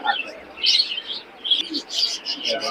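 Pigeons at a busy pigeon market in Khulna chirp and call in short bursts close by, with faint background murmur between the calls.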